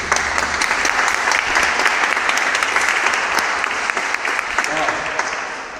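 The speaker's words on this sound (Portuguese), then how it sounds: "Vamos aplaudir a palavra de Deus?" Dense, steady applause from a church congregation after a Gospel reading fills the whole stretch, with many hands clapping at once at an even, loud level.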